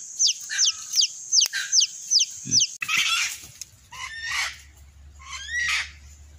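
A wild hen clucks and squawks in quick repeated bursts, loud and close, followed by more agitated calls over a low background rumble.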